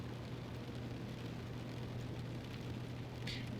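Rain ambience in The Stanley Parable, a steady faint hiss of rainfall with a low constant hum beneath, unchanging throughout with no talking.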